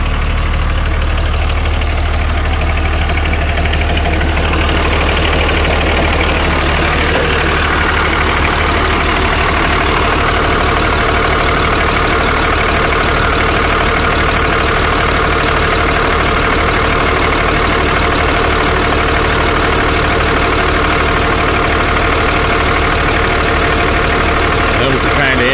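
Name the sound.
big diesel truck engine idling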